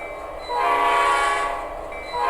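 A five-chime P5A air horn from a sound decoder in a model diesel locomotive, either a GP38-2 or an SD40, sounds one sustained chord lasting about a second and a half over the steady hum of the model's engine sound.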